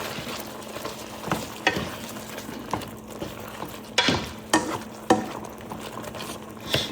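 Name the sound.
stir-frying tomato and egg with green peppers and cilantro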